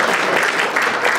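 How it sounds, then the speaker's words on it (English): An audience at a mayor's forum in a library claps in a brief, dense burst of applause, close and fairly loud, lasting only about a second. "This is the point you should clap."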